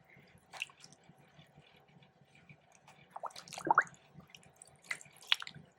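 Fabric from an old wedding dress is squished by hand in a container of soaking water, giving soft, close wet squelches and drips, sparse at first, then a louder cluster, all fairly faint.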